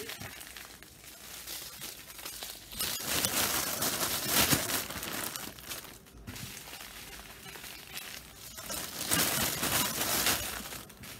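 Packing paper crinkles and rustles up close, loud and continuous, with louder crumpling surges partway through and again near the end.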